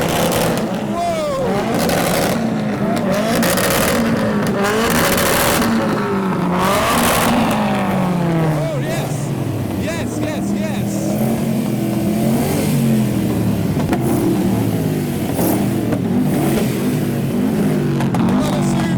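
Supercharged cars at a loud rev battle, including a 2JZ-powered Subaru, rev hard with repeated rising and falling engine sweeps and supercharger whine, joined by an excited crowd and shouting voices throughout.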